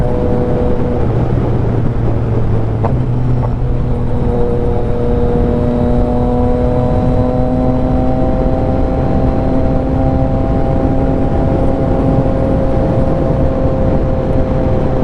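A Yamaha XSR900 motorcycle cruising steadily on the road, its engine a constant loud drone heard from the rider's position, with a brief shift in pitch near the start.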